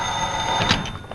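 A telephone rings in a 1940s office setting, a bright repeated bell tone over a dull room background, moderately loud and alone without talk.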